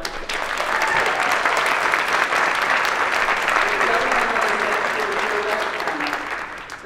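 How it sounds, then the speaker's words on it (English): An audience applauds a recognised employee and his coach at a meeting with a director, a steady burst of room-filling clapping lasting several seconds with some talk faintly underneath. "we want to just applaud you so much for what you've done"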